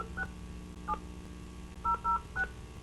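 Telephone keypad dialing tones punching in a number to join a planning and zoning conference call: a sequence of short, clear beeps spaced irregularly, some in quick pairs, over a low steady background hum.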